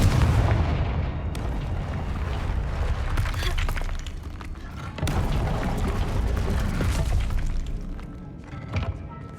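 Heavy blasting thuds from the Confringo fire spell in the video game Hogwarts Legacy, several booming impacts spread across the clip, loud and close over a rumbling combat backdrop.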